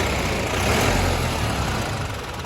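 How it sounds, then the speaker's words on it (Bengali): Engine of a newly delivered vehicle running steadily, a loud close broadband rumble that holds even, with no talking. "ইঞ্জিন সাউন্ড ফাউন্ডগুলো কেমন লেগেছে অবশ্যই জানাবেন"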